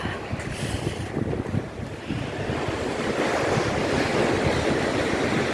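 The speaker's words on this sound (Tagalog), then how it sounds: "Kaya hindi pare-parehas ang tama ng alon." Ocean waves breaking at the seaside at Hac Sa, a continuous heavy surf wash with irregular crashes, buffeted by strong wind noise on the microphone and no voices.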